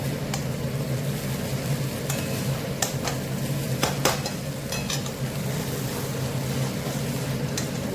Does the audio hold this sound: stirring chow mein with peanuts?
yes